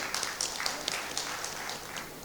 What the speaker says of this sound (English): Audience, can we give them a round of applause